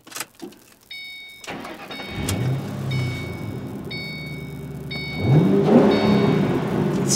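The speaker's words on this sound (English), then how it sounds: "What an awesome V8. I mean, that's such a traditional American sounding V8." A Ford Mustang GT V8 starts up with a cranking whir and catches into a deep rumbling idle, then revs up with a rising growl close by, steady beeping chimes sounding over the engine.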